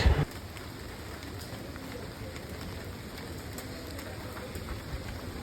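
Steady rain falls at Mohamaya Lake, a continuous even hiss of drops on water and surfaces, with a brief louder knock at the very start and no voices.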